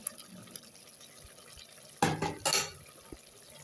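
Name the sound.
stirring mutton gravy with masala in a pot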